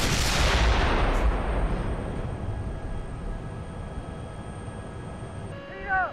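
A tank cannon fires in the Steel Beasts Pro PE simulator, one heavy boom that rolls out into a long fading rumble, followed by a brief faint mechanical whir at the end.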